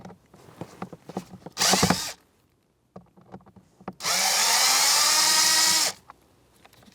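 A power driver fitted with a T20 bit backs out a screw on the blower motor of a 2011–2021 Jeep Grand Cherokee HVAC system, whirring in two loud bursts, one short and one longer, separated by quiet handling clicks.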